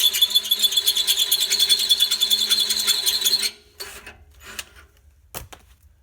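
A Ryobi 18V right angle drill bores with a larger bit, making a loud, close, rattling motor whir for several seconds. It then cuts out, leaving a few faint knocks and handling clicks.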